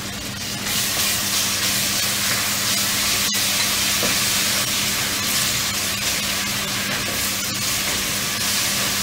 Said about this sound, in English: Add ginger garlic paste to it.